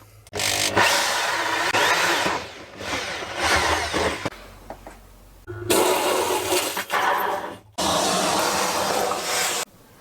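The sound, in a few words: hole saw drilling through wood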